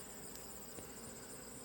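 Honeybees buzz inside an open beehive, a steady, unbroken drone that stays faint and even throughout, with no voices over it.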